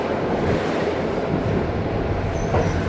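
A passenger train running from Poland toward Ukraine, heard from inside a carriage as a steady loud rumble of wheels on rails with faint squeals, continuous throughout.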